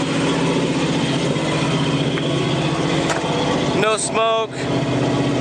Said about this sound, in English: You can see it idles right up.